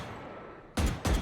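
Two sharp, loud gunshot bursts from a tactical shooter video game, fired in quick succession after a quiet stretch.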